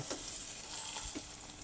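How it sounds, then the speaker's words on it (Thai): Aromatic ingredients stir-fried in a pan for a Chinese-style boiled chicken with sauce, giving a steady close sizzle with soft scrapes and stirring strokes, no voices. "ทีนี้ก็ผัดส่วนผสมนี้หอมขึ้นมา ก็ผัดมาจนส่วนผสมมีความหอม"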